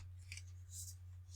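A deck of tarot cards is shuffled by hand, giving a few brief, faint papery swishes and riffles over a steady low electrical hum, with no voices.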